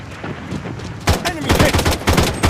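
Bursts of rapid gunfire from a modded gun in Blood Strike, starting faint and then erupting into loud, close volleys of sharp shots with brief gaps, a voice briefly audible underneath.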